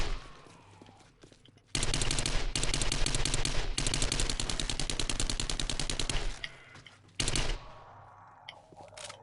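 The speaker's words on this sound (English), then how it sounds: "Let's use the SMG for a bit." Rapid continuous SMG fire in 7 Days to Die, a long steady automatic burst of several seconds followed by a shorter second burst after a brief pause, loud and close with no talking.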